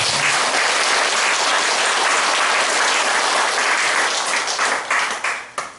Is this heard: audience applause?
yes